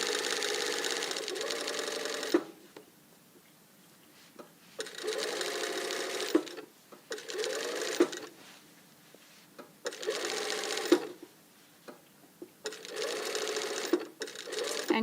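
A sewing machine stitches a blazer lapel in several bursts of rapid whirring, each run a second or two long and separated by short quiet pauses, close and clear.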